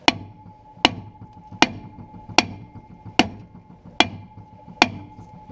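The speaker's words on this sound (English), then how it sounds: "I could whack it with a hammer a couple times" A hammer strikes a 1947 Chrysler New Yorker brake drum seven times at a steady, slow rhythm, each loud metallic clang ringing briefly before the next blow, with no talking.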